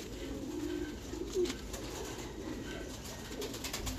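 Thai pigeons in a farm loft coo softly and steadily, low murmuring calls under faint background noise.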